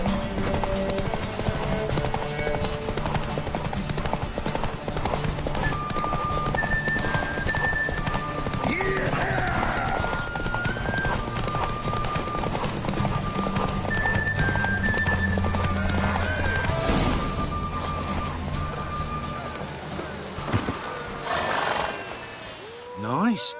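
Horse hooves clip-clopping at a gallop during a race in the video game The Witcher 3 on PS5, with repeated whinnies and neighs, all set against game music and occasional character voices.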